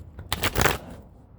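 Tarot cards shuffled once in a quick riffle, a short dense burst of papery crackling lasting under a second, close and fairly clear against a quiet room.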